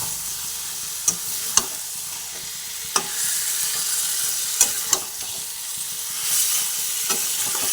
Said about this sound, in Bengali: এরপর আমি গ্যাসের ফ্লেমটা একটু কমিয়ে দিয়ে বেশ কিছুক্ষণ ধরে কষিয়ে নেব